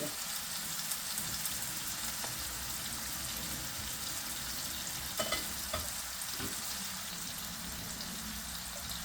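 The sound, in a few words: onions frying in pan as rice is added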